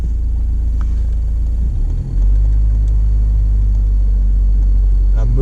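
A manual car's engine rumbles low and steady, dips briefly, then settles into a firmer, louder drone as it pulls away in first gear.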